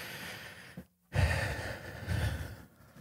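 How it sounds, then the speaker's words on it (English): A single deep breath, a long audible inhale followed by a short pause and a slow, breathy exhale, close and clear with no talking. "Nice deep breath."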